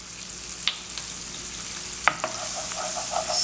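Onions and pimentos fry in a pan with flour stirred in, giving a faint steady sizzle with a few soft scrapes and clicks from the stirring, and no voices.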